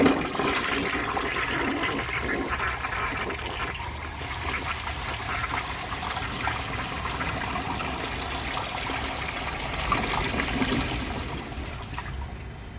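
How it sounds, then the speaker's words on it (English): A 1953 Kohler Trylon toilet with a standard tank ball flushes in one long, steady rush of water that holds for the whole stretch, close and loud, with no voices. "That was a pretty long flush, and it uses a ton of water too."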